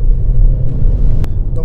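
Low engine rumble from a Haval H6 SUV on the road as it downshifts to second gear, steady and close, with someone talking over it.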